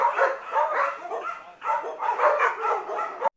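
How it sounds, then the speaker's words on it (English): A dog barks and yips in quick repeated bursts, two loud close volleys separated by a short pause, with no one talking. "Dog."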